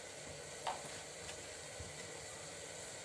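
Asafoetida sizzles in hot oil for a soybean pulao, a quiet steady frying hiss with a couple of faint clinks from stirring.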